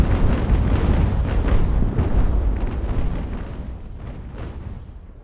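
Naval battle in the sailing warship game Ultimate Admiral: Age of Sail, with heavy ship cannon broadsides and explosions booming in rapid overlapping bursts, loud and rumbling, then easing slightly toward the end.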